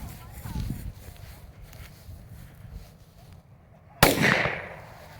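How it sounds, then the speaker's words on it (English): A professional firecracker goes off with one sharp, loud bang late in the clip, its crack ringing briefly afterward, preceded by outdoor rustling and footsteps. "Nice bang."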